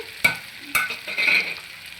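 Carrots frying in a pan of cooked-down tomato pulp for veg biryani, with a soft, steady sizzle and two sharp spoon scrapes or stirs. No one speaks.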